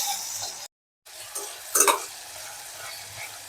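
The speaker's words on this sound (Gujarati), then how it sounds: "મેથીને પણ થોડી હલાવી કાઢીએ." Whole fenugreek seeds are being stirred and fried in a hot pan for a winter tuvar muthiya curry, with a steady soft sizzle, a brief gap, and a short scraping clink of the spoon near the middle.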